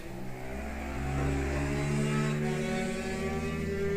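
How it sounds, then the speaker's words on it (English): Motorbikes ride past a house, a steady engine drone swelling to a louder pass in the middle before easing off slightly, heard from indoors at a moderate distance with no talk. "There go the knobheads on the stolen motorbikes past the house."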